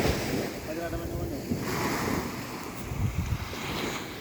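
Ocean waves wash and surge at sea during a fishing trip off Lampanah, Aceh, with heavy wind buffeting the microphone throughout.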